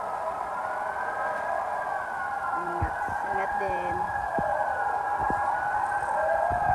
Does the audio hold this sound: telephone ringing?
no